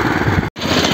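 A small engine on a vibrating potato digger runs loud and close with a rough, pulsing drone, cut by a brief dropout midway before it resumes running.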